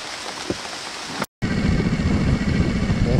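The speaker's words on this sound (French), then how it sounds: "Et d'un seul coup, voilà la pluie." Heavy rain pours down in a rainforest in a dense, continuous roar, briefly cutting out before returning even louder, with no voices.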